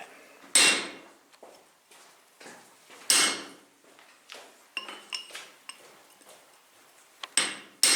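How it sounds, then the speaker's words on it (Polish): A blacksmith at an open-air museum forge hammers a horseshoe on the anvil: three loud, ringing metal strikes spaced a few seconds apart, with lighter clinks and taps between them, close by. "Dalszy etap wykowania podkowy."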